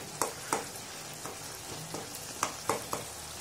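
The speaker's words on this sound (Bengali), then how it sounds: "এই অবস্থায় খুব সুন্দর করে নাড়তে হবে আমাকে।" Chicken frying in its own tomato juice without spices, stirred in a pan: a soft, steady sizzle with several sharp scraping clicks of the spoon spaced through the stir, fairly quiet and close.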